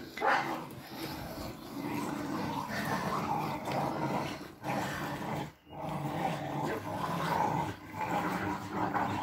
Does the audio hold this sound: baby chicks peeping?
no